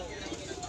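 Pigeon cooing at a bird market where male pigeons are sold, a soft low warble close by under steady crowd noise and nearby talk.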